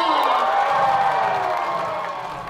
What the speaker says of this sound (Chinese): 我们掌声欢迎王建国。